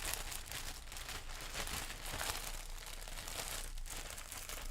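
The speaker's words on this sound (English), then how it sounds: "defeated by a plastic bag." A plastic bag crinkles and rustles steadily up close, a dense continuous crackling with small bursts of louder crumpling, heard alone without talk.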